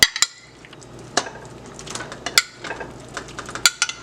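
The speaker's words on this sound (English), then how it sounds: "I'm going to add the shrimp." Shrimp going into a pan for shrimp fettuccine Alfredo, with sharp metallic clinks and scrapes of utensils against the pan over a soft sizzle.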